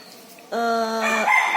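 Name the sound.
rooster crowing, Sentul native chicken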